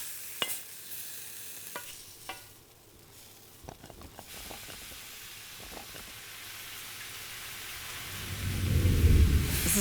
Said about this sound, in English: Let me check on those leeks. I'm going right into the pan.